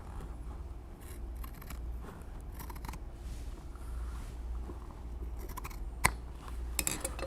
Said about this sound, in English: Now I can take a shears and cut that off.